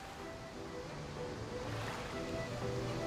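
Ocean surf rolling in Bioshock Infinite, a steady soft wash of waves with faint tonal music notes drifting underneath, distant and continuous.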